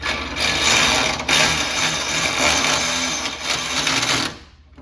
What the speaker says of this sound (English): Something's wrong with this ratchet.